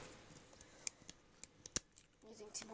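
A few sharp scissor snips cutting paper, spaced irregularly, close up and fairly quiet, with faint rustling between cuts.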